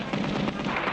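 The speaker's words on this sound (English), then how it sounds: "The bullets are bouncing right off him, Eel." Cartoon gunfire in an animated Underdog episode sounds as a dense rattling volley of rapid shots, loud and continuous for a moment, with bullets bouncing off the hero and no voices.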